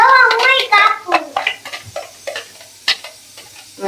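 Onions frying in a pan as the base for tomato gravy, with scraping stir strokes and a light sizzle that sit partly beneath a voice talking close by.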